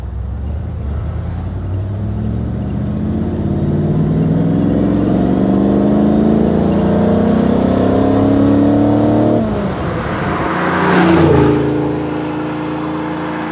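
A 1970 Maserati Ghibli Spyder engine revs hard while driving, its note rising and hardening as revs climb, then dropping at a gear change before building again, loud and close throughout.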